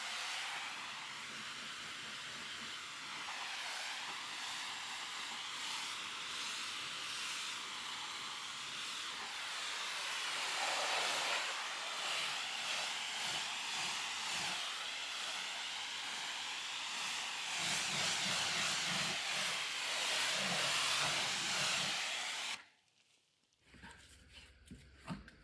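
Pressure-washer rinse spraying down a car after a snow foam pre-wash, a loud continuous hissing rush of water that shifts in intensity, then cuts off abruptly, leaving quiet drips.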